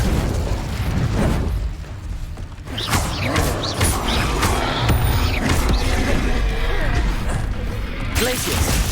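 A burst of Incendio fire spell in Hogwarts Legacy erupts with a loud whoosh and crackling flames, followed by a string of sharp spell impacts, pops and crashes amid combat.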